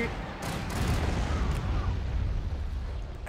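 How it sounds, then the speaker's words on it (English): A bombing run in a Star Wars strategy video game rumbles as a dense, continuous barrage of overlapping explosions and artillery-like blasts, loud and low-heavy throughout, with faint voices mixed underneath. "Initiate bombing run."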